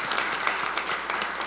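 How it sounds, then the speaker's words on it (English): Breakfast audience applauding a sponsor from an accounting firm at a leadership event, a steady wash of many hands clapping close and fairly loud for a short burst. "Let's give her a round of applause."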